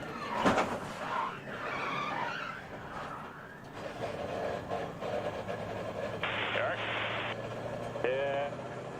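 Speedweeks 2011 NASCAR race cars skidding and crashing, a loud burst of tire and impact noise near the start giving way to continuous engine and crowd roar, with commentators talking over it throughout.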